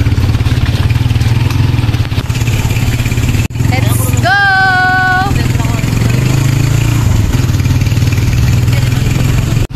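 Motorcycles and tricycles idling and passing along a roadside near a river, a continuous close engine rumble with clatter, a brief whistle-like tone and someone speaking over it.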